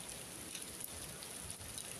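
Light rain patters steadily in St. Peter's Square with a soft, continuous hiss, faint and even throughout, with no voices.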